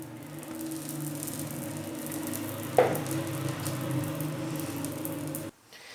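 Ghee-coated saag roti sizzles steadily on a hot griddle, a soft, even frying hiss that lasts throughout, with one brief sharper crackle partway in. It cuts off abruptly near the end.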